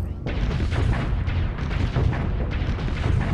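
Heavy booming weapon fire from spaceships in the space combat video game Starsector, a dense rumbling barrage of blasts and impacts with no clear breaks.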